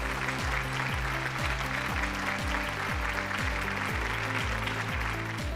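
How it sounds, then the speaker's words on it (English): Audience applause for the Indiabulls Home Loans award at a digital lending summit ceremony: steady, dense clapping that fills the hall throughout, layered under loud backing music with a repeating melodic pattern. "Please put your hands together for Indiabulls Home Loans."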